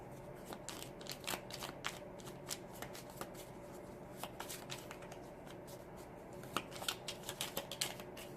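Tarot cards being shuffled, a close, soft run of rapid riffling flutters and crisp card snaps repeating in quick bursts, with a few sharper clicks near the end.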